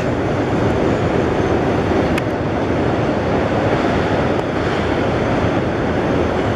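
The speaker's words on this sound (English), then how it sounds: "Now there's well cars passing over." A continuous rumbling roar of a freight train's well cars rolling over the Harahan Bridge, steady and loud, with faint metallic squeals and clanks over the din.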